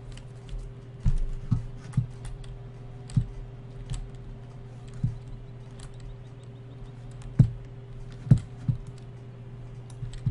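Keyboard keys clack in scattered single presses and short bursts, crisp and close, while someone plays Farming Simulator 2015 over a steady low electrical hum.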